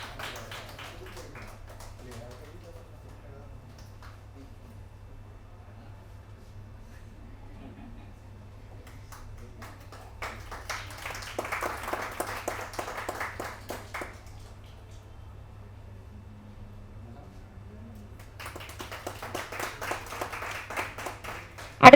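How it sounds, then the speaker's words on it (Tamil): An audience at a book release function applauds a young singer in two separate bursts of clapping, each lasting a few seconds, amid long stretches of someone talking over a low steady hum. "அது ஒரு கரகோஷம் கொடுத்துடலாம்"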